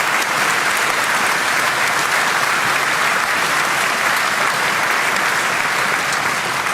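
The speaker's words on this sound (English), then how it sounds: "can I get a round of applause for Charlotte and George" Sustained applause from a rally audience at a Reform Hampshire political rally, a dense, steady wash of many hands clapping at full volume throughout, with no voices over it.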